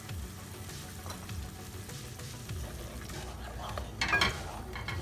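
Goan shrimp curry bubbles and sizzles softly in a pan after thick coconut milk is added, with a spoon stirring and scraping in bursts and a brief louder clatter near the end, alone without talk.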